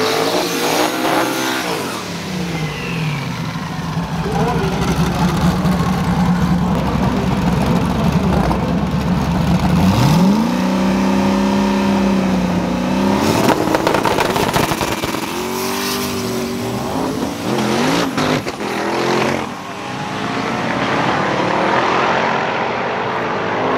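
Stick-shift drag race car on an elimination run: a loud, close engine revving hard, its pitch climbing and dropping through repeated gear shifts, with a harsh roar throughout and no talking.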